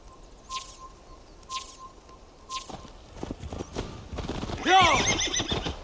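A horse neighs loudly near the end in Assassin's Creed Valhalla, a rising whinny after a few sparse hoof steps and faint bird chirps.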